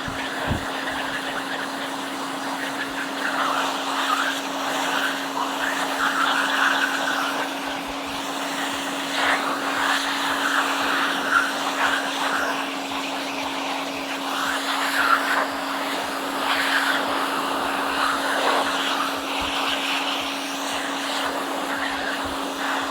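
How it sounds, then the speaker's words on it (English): An Airbox V2 electric hand dryer on its lowest power setting hums steadily for a long stretch, a constant motor drone with airy rushing noise and no pauses. "I'm going to dry my hands with the same hand dryer, but now this one is turned down to its lowest possible power setting"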